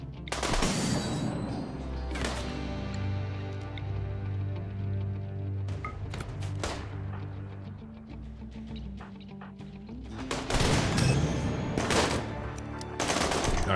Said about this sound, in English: I don't like this sniper here shooting at me.